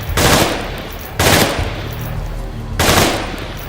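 Loud, close bursts of M16 rifle fire at a rifle range in an Oculus Rift VR shooting game: three sharp volleys with brief gaps between them and no talking.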